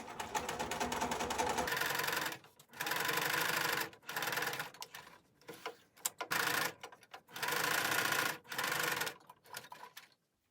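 A sewing machine runs a straight stitch around fabric pieces for a face mask, several bursts of steady rapid mechanical whirring separated by short pauses and clicks, no talking.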